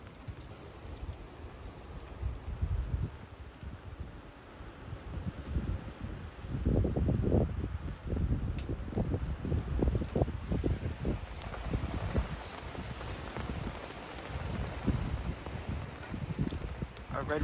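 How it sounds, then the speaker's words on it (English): Strong wind gusts during a rainy storm, a steady windy rush that swells into loud, close buffeting bursts partway through, with rumbling microphone wind noise and no talking. "when a big massive gust comes, you'll notice it"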